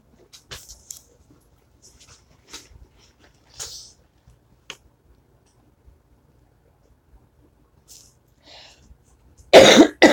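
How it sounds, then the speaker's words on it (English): Scattered faint clicks and small noises in a quiet room, then a loud, close cough bursts out near the end. "I've got this cough still."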